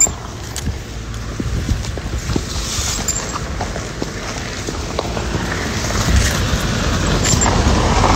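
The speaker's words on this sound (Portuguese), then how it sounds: "Vem o carro." A car approaches on an outdoor road on a sunny afternoon, its broadband engine and tire rumble swelling steadily louder against a constant wind-like wash, with no talking over it.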